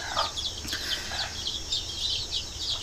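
Free-range desi chickens on a poultry farm cluck and chirp in a run of short, repeated calls over a low steady background, with no one talking.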